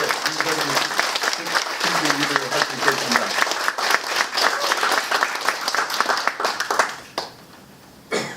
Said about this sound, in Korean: 지도자 여러분들이 한번 박수를 크게 보내주신다고 하면은